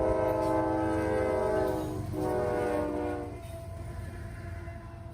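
A CSX freight train with locomotive 911 leading passes east of town, horn blaring in long chords over the rumble and rattle of the cars. The horn cuts off partway through and leaves steady rolling rail noise.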